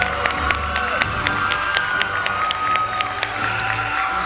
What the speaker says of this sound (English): Please give a round of applause for the fourth row of graduates.